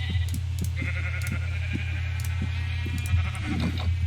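Sheep in the video game Minecraft bleat several times in short, repeated calls over a steady low background hum, with no talking.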